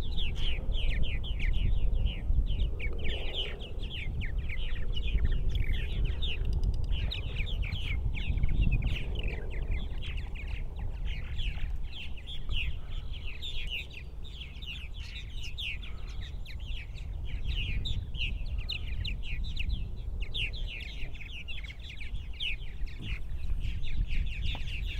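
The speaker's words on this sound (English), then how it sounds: "this chattering and this last minute flying will go on for another 10-15 minutes" A colony of purple martins chatters in the evening, a dense, continuous stream of bright twittering calls overlapping at mid distance above a low background rumble.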